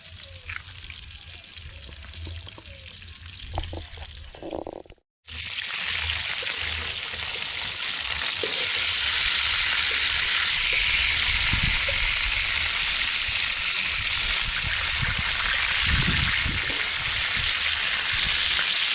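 Bonita fish fry loudly in a pot, a steady close sizzle that swells after a brief break and then holds strong and continuous, with occasional stirring clatter.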